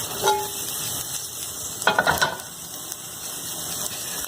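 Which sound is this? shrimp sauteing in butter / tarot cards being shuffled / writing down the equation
shrimp sauteing in butter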